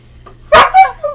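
A dog barks once, sharp and loud at close range, in a home kitchen where sausages are being cut up for red beans and rice, followed by a couple of quieter trailing yelps.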